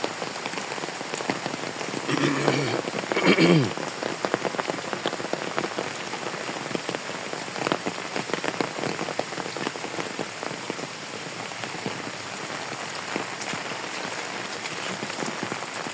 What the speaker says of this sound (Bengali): সারা রাত বৃষ্টি, এখনো চলতেছে রানিং বৃষ্টি